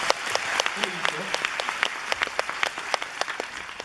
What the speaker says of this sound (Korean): 자 다시 한번 큰 박수 보내드립니다.